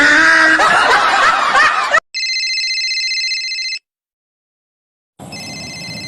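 A telephone rings with a steady electronic tone in two bursts separated by a pause. Noisy chatter and laughter come before the ringing.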